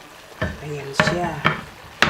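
Fried chicken breast and zucchini are stirred in a pan, with a few distinct scraping and clattering strokes of a utensil over a soft background sizzle, close and fairly loud, with no talking.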